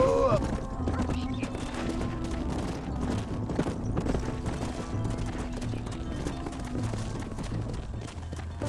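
Horse hooves clip-clop in the video game Red Dead Redemption, a steady rhythmic plodding at moderate loudness mixed with game ambience and background music, with a voice speaking over it.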